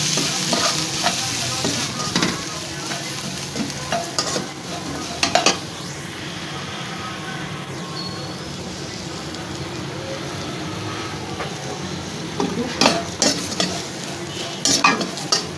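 Whole spices crackle and fry in hot oil for a samosa filling, with a steady sizzle and repeated scraping stirs and clinks of a utensil against the pan throughout.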